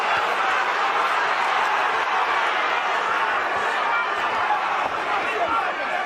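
At a boxing arena in Manchester, the crowd keeps up a dense, steady roar of cheering and chatter during the Scott Quigg vs Jono Carroll fight, with a commentator talking over it.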